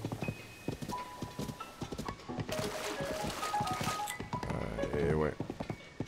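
Horse hooves clip-clop in Zelda: Tears of the Kingdom, a quick rhythmic trot of hollow knocks carrying through, with a whinny near the end, while someone talks over the game sounds.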